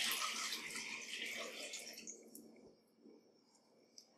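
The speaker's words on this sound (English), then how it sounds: "And then I'm just going to fill this up with water." Tap water pours into a wok for hot pot, a loud rushing splash that fades after about two seconds into softer trickling and a final faint clunk.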